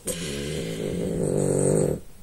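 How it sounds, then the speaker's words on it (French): A dog snores up close, one long raspy rumbling breath drawn out for about two seconds, growing slightly louder toward the end before stopping, with no voices over it. "Merci Ona qui vient de ronfler."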